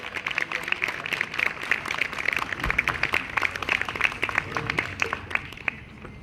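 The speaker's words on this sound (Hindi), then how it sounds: "मुझे लगता तालियां बहुत कम है। हाँ, ये हुई ना" An audience at a Republic Day award ceremony at Sanjay Gandhi Hospital claps steadily and densely throughout, with a close, crackling texture and a voice faintly underneath.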